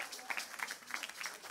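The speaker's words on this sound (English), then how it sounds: "please graciously clap for them" Church congregation giving a couple gentle applause during a sermon, a soft, distant patter of clapping hands across the room, faint and brief with a hint of voices.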